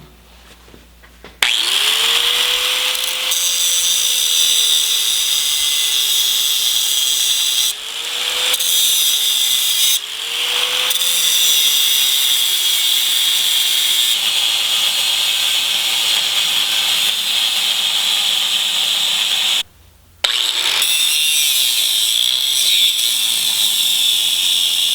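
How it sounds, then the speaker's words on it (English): Cutoff wheel slicing through steel just above a weld on a vehicle axle in a shop, a loud, close, sustained high grinding whine that drops briefly three times when the wheel pauses or bites harder. "I'll come in as flat as I can here and try to go right above the weld there."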